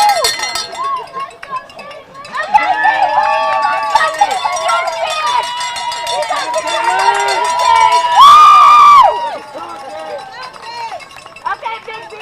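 Spectators on a hill at the Knoxville Marathon cheer runners with loud whoops, shouts and clanking cowbells, a lively crowd close by and continuous throughout.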